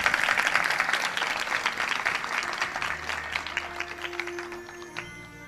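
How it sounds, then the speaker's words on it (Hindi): Crowd applause at a Bhagwat Katha religious gathering in Lasalgaon, a burst of loud, dense clapping that gradually fades as a sustained harmonium-like tone enters at the end. "एक बार जोरदार तालियां हो जाए।"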